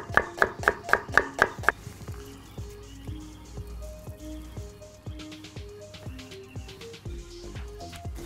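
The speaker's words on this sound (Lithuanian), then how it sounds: "Tai naudosiu svogūną, jį supjaustom pusžiedžiais." A quick burst of sharp knife chops on a board, then slower, spaced slicing cuts through onion into half rings with soft crunches, close and clear.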